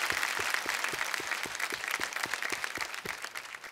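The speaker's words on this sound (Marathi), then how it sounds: "एकदा जोरदार टाळ्या." Studio audience on a Marathi quiz show applauds, a fairly soft but steady stream of clapping with a clear rhythmic beat of synchronized claps running throughout.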